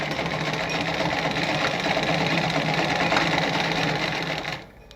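A treadle-driven Singer 306K sewing machine stitches a straight seam with a fast, steady mechanical chatter for several seconds, then stops abruptly at the end.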